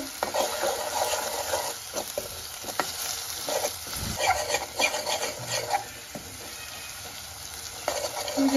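Chili, onion, ginger, garlic, chili powder and garam masala frying together in oil, a continuous close sizzle with repeated scraping stirs of a spoon against the pan.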